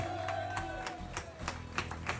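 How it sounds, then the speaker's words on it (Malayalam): An audience at a Kochi minimarathon prize ceremony claps for a presenter called to the stage, with a sustained spread of many hands in moderately loud, even applause. "നല്ലൊരു കൈയടി കൊടുക്കാം പ്ലീസ്"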